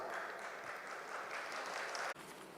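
Steady applause from delegates at a poultry industry expo in India, continuous moderate clapping that briefly cuts out near the end before resuming.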